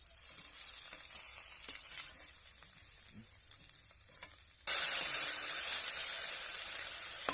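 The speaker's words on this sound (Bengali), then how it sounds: "দেখো দু সাইড লাল করে ভেজে নিয়েছি" Food frying in a pan with both sides browned, seasoned with fennel seeds and chilli powder; a steady sizzle that surges much louder and brighter partway through, with faint stirring clicks earlier.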